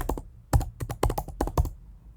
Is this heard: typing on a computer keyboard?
yes